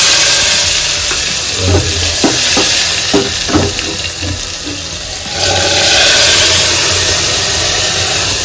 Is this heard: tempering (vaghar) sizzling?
yes